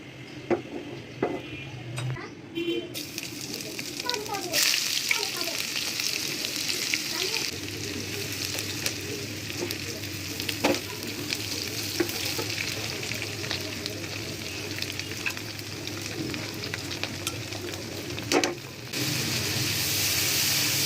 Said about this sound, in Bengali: এই দেখুন কত সুন্দর করে আমার শুটকিটা কষানো হয়ে গেছে